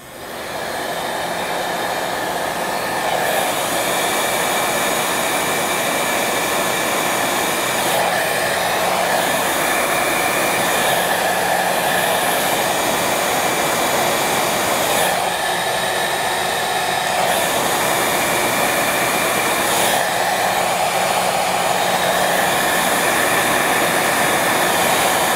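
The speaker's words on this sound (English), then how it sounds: "Okay, and now I'm gonna get my heat gun." A heat gun blows continuously near a model glider fuselage, a loud steady airy roar with slight shifts in tone as it is moved, running without pause and with no talking.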